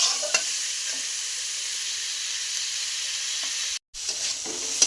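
Chicken meat slowly stir-fried in a pan for a singara filling, with a steady close sizzle and occasional stirring scrapes, a brief dropout near the end.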